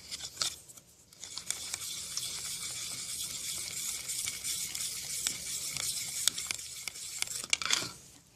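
Homemade slime made with liquid glue is stirred in a steady, sticky, squelching churn that runs almost continuously for about eight seconds, close and moderately loud, with no one talking.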